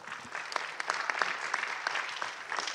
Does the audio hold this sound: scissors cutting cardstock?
no